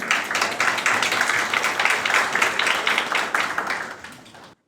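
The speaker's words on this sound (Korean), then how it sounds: "큰 박수로 봐주시기 바랍니다" A large audience at a Jeonnam youth history research competition applauds student presenters, with dense, steady clapping that holds loud throughout and then cuts off abruptly at the end.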